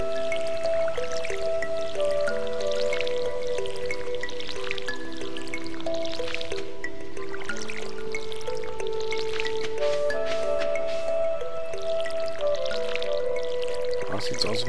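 Watering crops in the Stardew Valley video game, with bright, repeated splashing and dripping water effects layered over tonal background music, a steady run of short liquid sounds throughout.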